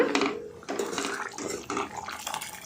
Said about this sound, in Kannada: ಟೊಮೊಟೊ ಸಾರು ಚೆನ್ನಾಗಿ ಕುದಿ ಬರ್ತಾ ಇದೆ